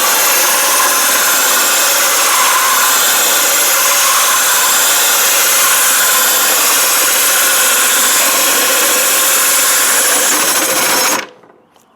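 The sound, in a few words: diamond hole saw drilling through tile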